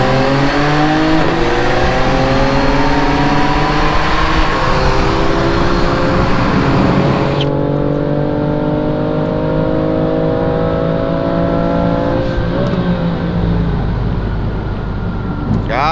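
A stock BMW F80 roars through a roll race, its engine loud and close as it climbs steadily through the revs, shifts once midway and keeps pulling hard for a long, unbroken run.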